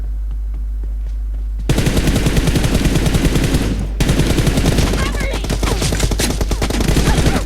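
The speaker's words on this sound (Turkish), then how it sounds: "oğlum bak işte adam mermi sıkıyor." Loud sustained automatic gunfire from the mobile battle royale game PUBG Mobile, starting abruptly after a quiet stretch and rattling in dense rapid bursts with a brief pause partway through, close and continuous.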